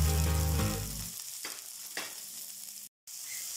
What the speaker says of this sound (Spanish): aquí mismo en este sartén vamos a estar ahorita salteando nuestros vegetales. Comenzaremos con nuestra cebollita.